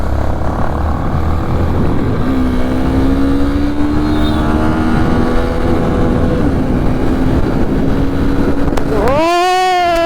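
Motorcycles race at speed, including a V4 bike, with a sustained rising engine drone that builds across the clip and ends in a sharp, loud rev sweeping upward as a bike passes close, with voices in the background.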